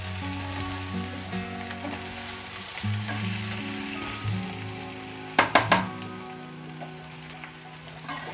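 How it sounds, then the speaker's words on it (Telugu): Chicken pieces fry in a pan for a spicy Trivandrum-style fry, giving a steady close sizzle with a low hum under it and a brief burst of louder crackling midway. "చికెన్ పీసు మంచిగా ఇట్లా బాగా కాలాలండి. కొంచెం అడిగంటినట్టుగా కాలితే చికెన్ అనేది బాగుంటుంది."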